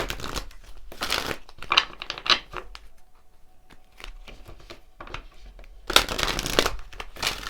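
Tarot cards are shuffled by hand in a few close, papery riffling bursts separated by short quiet gaps, with no voice over them.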